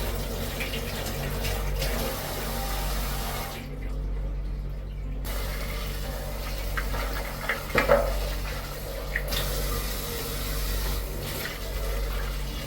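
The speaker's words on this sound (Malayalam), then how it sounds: "അപ്പം നമ്മുടെ ഷവറിൽ നിന്നൊക്കെ വെള്ളം വരുന്നത്" Water runs steadily from a filtered shower head in a bathroom, with a loud continuous hiss that cuts out briefly near the middle, then resumes with a few small knocks. No one speaks.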